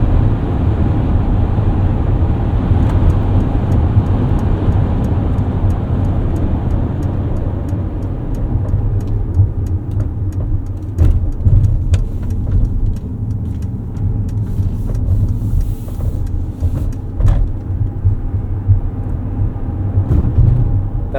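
Interior drive in a 2024 Mercedes-Benz eSprinter electric van with a 113 kWh battery, pushed hard: steady loud low road and motor rumble throughout, with occasional clicks and knocks, no talking.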